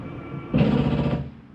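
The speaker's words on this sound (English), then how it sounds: "that's the slide mechanism saying I'm all the way out." An RV slide-out mechanism on a 2025 Jayco Jayfeather 19MRK travel trailer reaches full extension, a sudden loud mechanical grinding hum that holds for about half a second and then cuts off.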